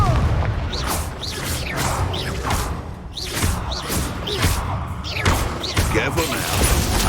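Repeated fiery Confringo spell blasts in Hogwarts Legacy combat, a run of loud booming impacts and thuds mixed with whooshes, with character voices talking over the fight.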